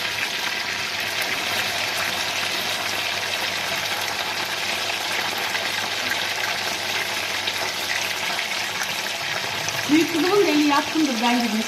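Sliced sweet potatoes fry in hot oil with a continuous, even sizzling hiss close by, and a voice speaks briefly near the end.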